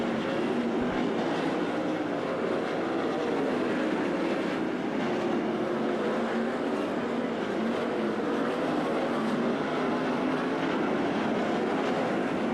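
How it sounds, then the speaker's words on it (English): Race cars run side by side on the dirt oval at Attica Raceway Park, a sustained roaring engine drone heard from a distance, steady and unbroken across the whole stretch. "Into lap traffic they fly. 2 lap cars racing side by side."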